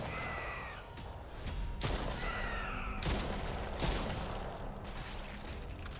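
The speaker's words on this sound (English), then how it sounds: "At least there's a bit more monster shooting here" Gunfire from monster shooting in the horror video game Stray Souls, with repeated bursts of shots at irregular intervals over a continuous game soundscape, loud and close, with no talk.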